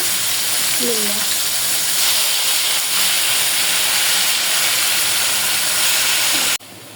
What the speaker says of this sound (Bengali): আমি সামান্য পরিমাণ তেল আর সামান্য পরিমাণ একটু পেঁয়াজ ভাজা নিছি এটা একটু দিয়ে দেব